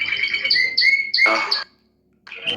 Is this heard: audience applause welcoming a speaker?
no